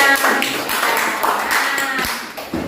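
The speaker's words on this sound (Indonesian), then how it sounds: "Oke, tepuk tangan semuanya" A classroom of students claps for a classmate's finished montage artwork, a brief scattered round of hand claps with some uneven, louder individual claps.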